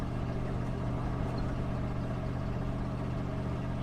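A car engine with its exhaust fallen off runs steadily nearby, giving a loud, dense, low rumble that barely changes for the whole stretch.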